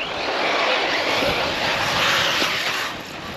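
Electric motor of an E-Performer RC model airplane, running somewhat hot, gives a loud, steady whirring hiss with a high whine, close by and sustained throughout without voices.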